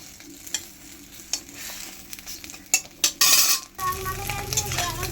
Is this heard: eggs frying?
yes